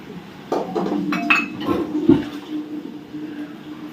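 Dishes, pots, utensils and a kadhai clink and clatter while being washed in a home kitchen, with scattered knocks and rattles at close range, moderately loud throughout.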